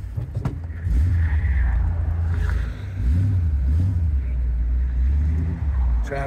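Road traffic passes by, engines swelling and fading in low rumbling waves that rise and fall a few times, with a sharp knock near the start and no talk.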